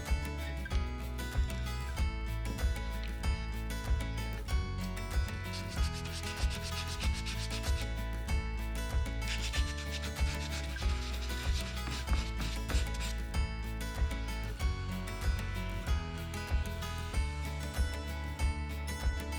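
Close, rhythmic hand sanding strokes scrape steadily across cured putty on a sunken floor repair, repeating evenly throughout with no talk.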